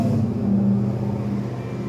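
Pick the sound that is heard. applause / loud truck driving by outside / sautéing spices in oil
loud truck driving by outside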